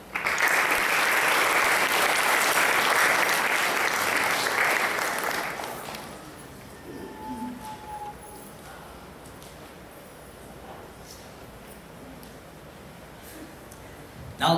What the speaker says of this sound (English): Now give a big applause to all of us.